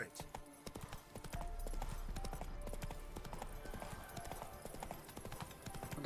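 Roach's hooves in The Witcher 3 clop in a fast, steady galloping rhythm with a low rumble underneath, fairly close, while a voice talks over them.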